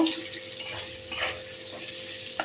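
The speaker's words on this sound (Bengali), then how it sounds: "তেল গরম হয়ে গেছে আমি পটলগুলো দিয়ে দিচ্ছি" Pointed gourd (potol) slices fry in hot oil with a soft, steady sizzle, broken by a few light scrapes and clinks of a utensil against the pan.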